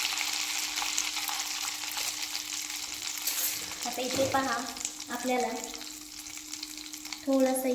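Ghevar batter deep-frying in hot oil for Rajasthani ghevar, a steady dense bubbling sizzle with a few brief louder surges, no voices heard.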